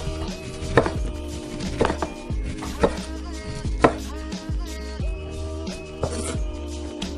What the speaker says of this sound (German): Jetzt werde ich natürlich erstmal die Zitrone filetieren.